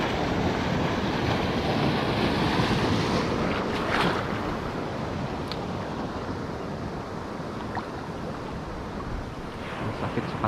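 Ocean waves break and wash steadily near a reef edge, a continuous broad roar mixed with wind noise on the microphone, loud and constant throughout with no speech.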